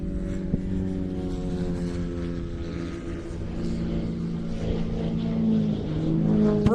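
A 40% scale aerobatic model plane at an airshow drones with a sustained buzzing engine tone whose pitch rises and falls through a manoeuvre, loud and fairly close, with crowd ambience around it.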